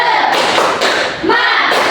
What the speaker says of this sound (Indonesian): Biar makin semangat, kita tepuk semangat dulu ya